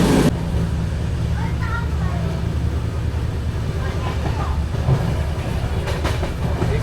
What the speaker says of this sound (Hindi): दिन के रोशनी में लास्ट क्रॉसिंग जो कि था मिलेनियम सुपरफास्ट एक्सप्रेस